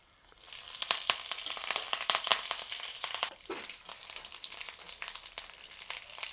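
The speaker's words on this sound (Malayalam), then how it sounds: "ഇതിൻ്റെ കടുക് നമ്മുടെ കാളന് കടുക് പൊട്ടിച്ച് ചേർക്കാം" Mustard seeds, a dried chilli and curry leaves splutter in hot oil for a banana kalan tempering, giving a dense sizzle with rapid crackling pops that swell and then settle, close by and without speech.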